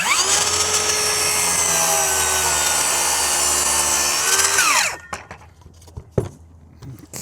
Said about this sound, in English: hopefully you can hear the audio and you can hear the saw and you can kind of hear what's going on here